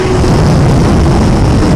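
A Suzuki GSX-R1000R motorcycle engine roars steadily at full throttle during a wheelie, loud and continuous with rushing wind noise throughout.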